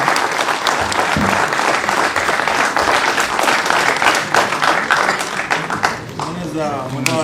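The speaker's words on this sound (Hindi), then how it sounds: "तालियों में कंजूसी मत करो" Audience applause fills a felicitation ceremony for NEET students at a career institute in Srinagar, a dense steady clapping that runs throughout with speech mixed in and a brief voice near the end.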